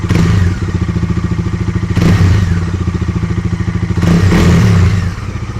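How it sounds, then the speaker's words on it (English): A Bajaj Dominar 250 motorcycle engine revs loudly and close by, with a rapid, throbbing exhaust pulse that surges in repeated throttle blips about every two seconds. "The Dominar 250, definitely the best sounding 250cc in its class."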